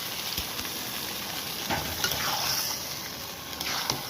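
Malabar spinach stalks sauté in a pan with potato and lentils, giving a steady close hiss of frying with faint stirring scrapes and small bubbling pops throughout.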